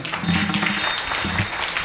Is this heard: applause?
yes